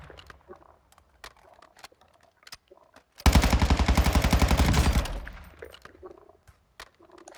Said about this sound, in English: It's a fully auto gun